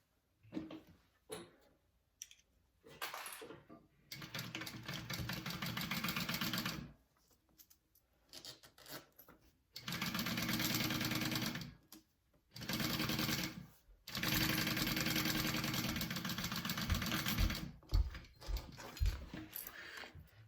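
A sewing machine stitches a zipper pocket piece for a bowler bag at a narrow seam allowance, running in several steady bursts of a few seconds each, separated by pauses.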